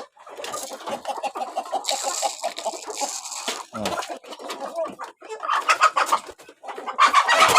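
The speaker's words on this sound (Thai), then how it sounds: "ให้อาหารไก่แล้วก็ เดี๋ยวเราจะเก็บลูกไก่นี้เข้าไปไว้ข้างใน" Young gamecock chicks and hens cluck and peep while being fed grain at an evening feeding in a rural Thai coop, with busy overlapping calls, some close and loud, and a few bursts of sharper chirping.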